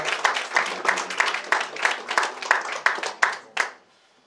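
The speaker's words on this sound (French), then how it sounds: "merci beaucoup de l'applaudir" Applause from a gathered crowd at the official draw of a European schools badminton championship, a steady burst of clapping with rhythmic accents that swells, then ends abruptly into near silence.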